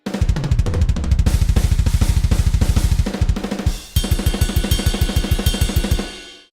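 Programmed MIDI drums at a fast, steady pulse, every kick, snare and cymbal hit landing at the same flat, unchanging loudness, with a brief break near the middle before the same rigid pattern resumes and stops abruptly.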